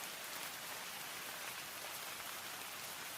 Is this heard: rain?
yes